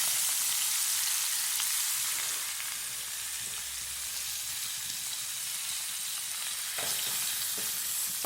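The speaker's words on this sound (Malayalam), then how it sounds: "ചൂടായിക്കാൻ നമുക്ക് ഈ സവാള ഇട്ട് കൊടുക്കാം ഒരു മൂന്ന് സവാള ഇട്ടിട്ടുണ്ട്" Three onions fry in a hot pan with a dense, even sizzle close by, steady throughout, with a couple of faint scrapes of stirring near the end.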